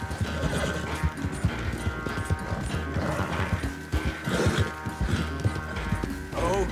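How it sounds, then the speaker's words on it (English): Galloping horse in the video game Red Dead Redemption 2, rapid rhythmic hoofbeats mixed with game music and occasional whinnies, fairly loud and continuous. "This horse is fast."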